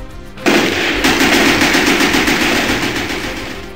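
Rapid machine-gun fire in a BIONICLE video game erupts after a brief quiet start and continues as a loud, dense burst that barely lets up.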